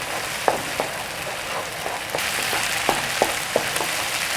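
Spice paste for beef serundeng sautéing in oil in a pan, a steady soft sizzle with a few light clicks and taps of stirring scattered through, close and fairly quiet.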